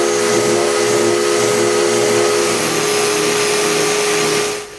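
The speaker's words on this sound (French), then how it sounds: "Maintenant, c'est le temps de sabler tout l'extérieur." Power sander running steadily on the outside of a wooden nightstand, a loud continuous whirring drone that holds for several seconds and then cuts off at the end.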